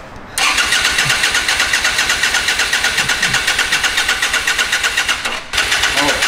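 A retro tow truck engine cranks and catches on its own fuel, settling into a loud, close, rhythmically pulsing run with a brief stumble near the end, voices faint underneath.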